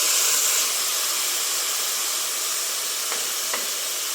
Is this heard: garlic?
yes